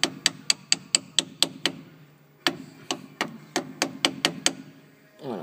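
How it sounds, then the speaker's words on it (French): Sharp, quick taps of a screwdriver's back end on a handbrake cable of a 1994 Toyota MR2 GTI, two rapid runs of about seven to eight close metallic knocks separated by a short pause. "je vais taper un petit peu dessus pour qu'il rentre. Avec l'arrière du tournevis pour voir si ça passe"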